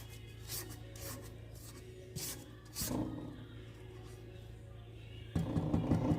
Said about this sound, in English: we are going to start that mixer back up